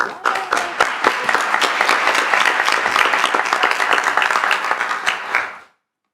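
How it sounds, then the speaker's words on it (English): An evening audience applauds in a loud, dense burst of clapping that holds steady for several seconds and then stops abruptly. "A round of applause"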